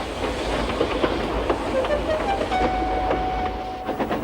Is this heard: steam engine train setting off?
yes